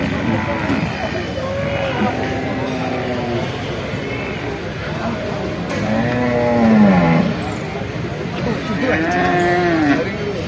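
Buffalo low and moo repeatedly amid the hubbub of a busy livestock market at Chattiparamba, with people talking and other animals calling nearby.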